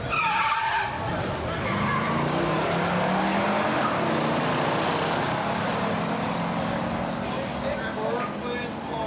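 A Hemi-powered Plymouth Superbird with an automatic transmission launches in a drag race. Tires squeal, and a loud engine roar holds steady and close while an announcer talks over it.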